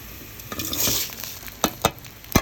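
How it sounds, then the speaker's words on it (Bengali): Pulao rice frying and sizzling in a pan, stirred with a utensil: a steady hiss, then several sharp scraping clacks against the pan toward the end, close and without talk. "এখন পোলার চালটা দিয়ে ভালোভাবে নাড়বে।"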